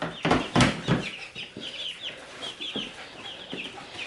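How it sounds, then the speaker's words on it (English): Two-week-old chicks cluck and peep close by in a backyard garden coop, a busy run of short overlapping calls with a few louder bursts, with no talk. "Say, grow, little chickies, grow."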